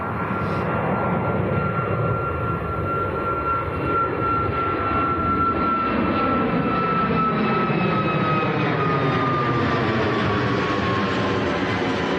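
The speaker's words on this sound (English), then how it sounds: "Just make out the Turkish Airlines as well, just about to touch down." A Turkish Airlines airliner coming in to touch down at Manchester Airport, a steady loud engine roar and whine holding for the whole stretch, with a slowly falling high tone as it passes.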